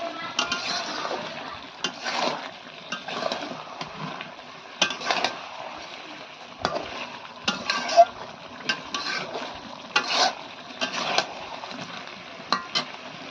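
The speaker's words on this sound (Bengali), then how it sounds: "মাংসটা আমি ভালো করে কষিয়ে নিচ্ছি।" Meat being stir-fried in a pan while Indian spices wait nearby: repeated scraping and stirring strokes of a utensil against the pan come in irregular bursts over a soft sizzle, close and moderately loud, without talk.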